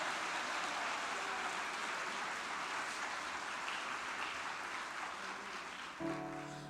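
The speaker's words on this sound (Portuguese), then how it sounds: "Se você crê, dê um aplauso a Ele forte em nome de Jesus." Sustained applause from a church congregation, a steady wash of many hands clapping at moderate distance that fades slightly toward the end, with no speech over it.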